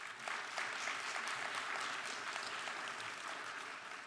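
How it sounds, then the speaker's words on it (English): Honor students at the 2023 VSU Honors Convocation and Awards Ceremony applaud themselves, with a continuous wash of many hands clapping, fairly distant and soft, sustained for around four seconds. "Please give yourselves a round of applause."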